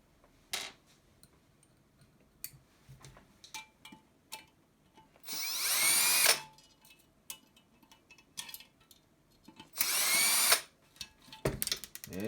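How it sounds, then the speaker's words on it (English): A power drill or driver backs screws out, two long whirring bursts among scattered ticks and clicks of handling the parts, close and without talking. "There are actually screws down here that I have to take away."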